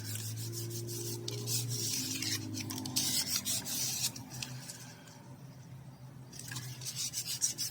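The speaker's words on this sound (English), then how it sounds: "Come on in and burnish that down." Paper being burnished down onto a journal envelope by hand, a soft close rubbing and scraping that comes in repeated strokes, quiet and alone with no voices.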